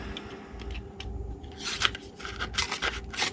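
Paper being cut and worked with a witch hat builder punch for a Halloween treat box, giving close scraping and snipping rustles in irregular bursts, with no talking.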